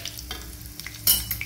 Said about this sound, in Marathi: छोट्या कढईत मी तेल गरम करत ठेवलं होतं। त्याच्यात टाकूया पहिले चणा डाळ